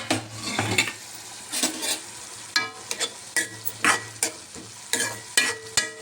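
Fresh broad bean pods sizzle and spit in a hot pan, with scattered metallic clinks and scrapes of a spoon stirring against the pan, alone and nearby.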